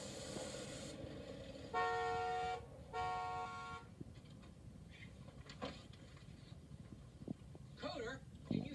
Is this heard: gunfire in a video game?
no